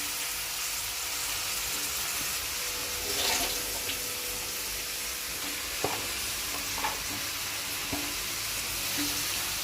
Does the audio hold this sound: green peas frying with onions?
yes